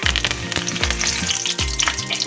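Cumin seeds, mustard seeds and curry leaves frying in hot oil for a ridge gourd chutney tempering, giving a loud, steady sizzle with sharp crackles and pops bursting repeatedly throughout, no talking.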